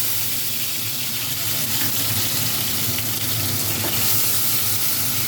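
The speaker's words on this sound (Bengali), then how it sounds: "আদা রসুন বাটাটা দিয়ে দিলাম। এটাকে ভালো করে আমি এখন কষবো।" Ginger garlic paste frying in a hot pan while being stirred, a steady broad sizzle that stays loud and even throughout with faint scraping.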